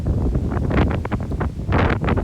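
Strong gusting wind buffets the microphone outdoors near the remains of an old railway water tower and water troughs, loud rumbling gusts that swell and fade repeatedly with no talking.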